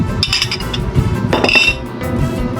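Creamy buko salad mixed in a bowl, giving dense, close clinks and scrapes of a utensil against the bowl over a wet, continuous churning.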